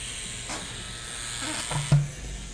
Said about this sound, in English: I'm tattooing on the outside of my outline stencil